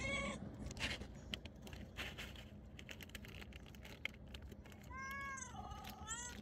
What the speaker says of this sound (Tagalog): magpapakain tayo ngayon ng mga pusa